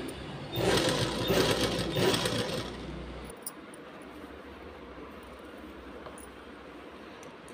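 Sewing machine stitching a blouse's round neck, a close steady mechanical whir for about three seconds that then cuts off, leaving quiet room tone.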